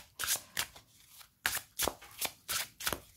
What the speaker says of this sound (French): Donc nous allons mélanger les cartes.